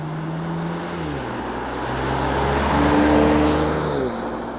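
A 2020 Porsche Macan GTS cruises on the motorway, its engine droning steadily with gear-like pitch shifts and rising to a louder surge before easing back, heard from inside over constant road and wind noise.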